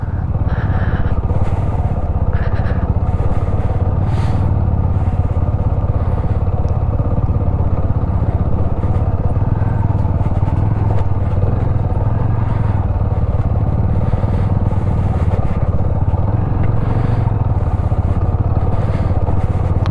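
A motorcycle rides over black ice on a high North Sikkim mountain road near Zero Point, its loud, close engine droning steadily for the whole stretch with faint scraping and clatter mixed in.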